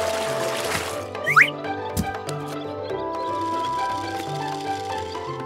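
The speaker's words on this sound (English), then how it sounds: "The woodpecker is pouring water from the tractor bucket." Cartoon water poured from a toy tractor's bucket into a pool at the beach, a soft liquid pour and splash over a steady music bed.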